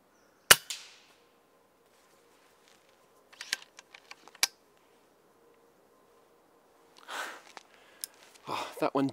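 A Daystate Huntsman Revere airgun fires once at a squirrel outdoors, a sharp, close crack, followed by quiet mechanical clicks and rustling as it is handled and reloaded.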